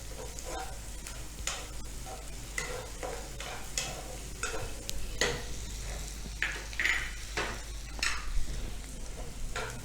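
Cashew pieces and raisins sautéing in a pan for a spiced eggplant rice dish, a steady sizzle broken by repeated scraping spatula strokes and light clinks against the metal, close and fairly loud.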